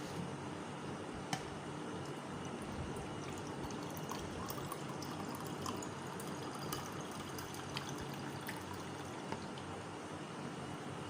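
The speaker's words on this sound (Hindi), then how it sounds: "ये मैंने 1 गिलास पानी डाल लिया है।" Water pours steadily into a pan, a continuous trickling splash that runs for several seconds with no voices.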